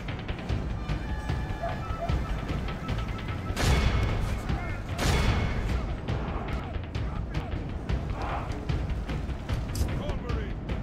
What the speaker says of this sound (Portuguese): Um canhão acertou ali.